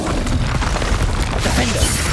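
Bombarda blasting spell cast in the Hogwarts Legacy video game, a dense, loud burst of booming impacts and crashing debris rumbling steadily for about two seconds with no voices.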